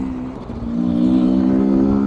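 Rieju 300 MR Pro motorcycle engine while riding in a high gear, a steady droning hum that rises slightly in pitch and loudness as the bike pulls, with no talk.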